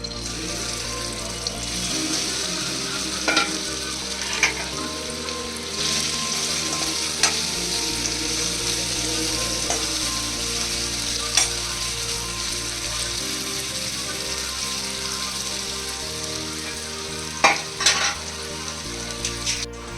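Paneer pieces coated with salt and chili frying in hot oil for dhaba-style paneer butter masala, a steady close sizzle lasting throughout with occasional spoon clinks and scraping stirs.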